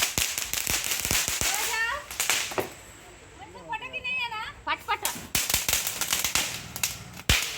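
Firecrackers crack off during a family Deepavali celebration, a string of sharp loud bangs scattered across the scene with people talking and a voice in between.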